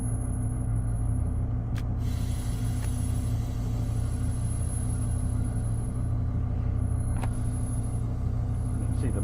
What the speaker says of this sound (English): I love the noises of diesel engines.